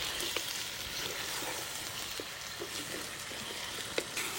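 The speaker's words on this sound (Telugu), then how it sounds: "ఈ మటన్ వేసుకున్నాక ఇలా కలుపుకుంటూ 5 నిమిషాల పాటు ఇలా వేగనిద్దాం." Mutton pieces with turmeric and ginger-garlic paste frying in a pan, a continuous close sizzle with faint scraping and occasional soft knocks from stirring.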